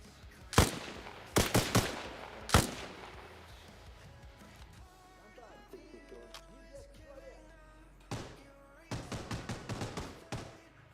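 Arma Reforger gunfire comes in sharp, loud bursts of close rifle shots, first a cluster of quick cracks, then a quieter stretch, then another rapid volley near the end.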